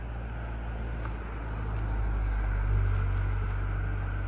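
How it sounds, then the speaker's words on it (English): Steady traffic on Twin Rivers Road in Rouge National Urban Park, with cars rumbling past continuously at moderate distance, swelling slightly as one goes by, and no talking. "when you're walking on Twin Rivers Road, you could hear constantly cars coming by"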